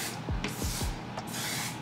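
Hair product spray bottle misting in short repeated bursts, close and fairly loud, with no talking during the sprays.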